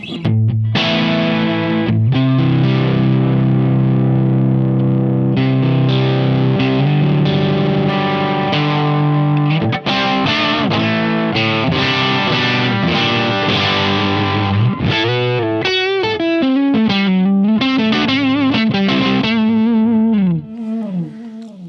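Heavily driven Fender Standard Stratocaster with single-coil pickups plays chords and riffs through an effects-laden amp with jumpered channels, thick and continuous, with swirling modulation and sliding notes near the end.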